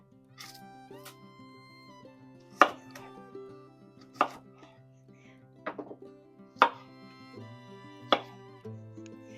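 A knife chopping a red onion on a cutting board, five or six sharp, close knocks at uneven intervals with softer handling sounds between them and a faint tonal hum underneath.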